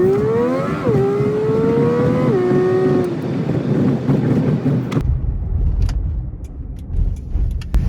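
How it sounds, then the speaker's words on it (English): A Toyota Sienna engine hums and revs with gear-shift pitch changes, then gives way to steady, rumbling road noise as the minivan drives along on a test drive after new front brakes. "let's do a quick test drive"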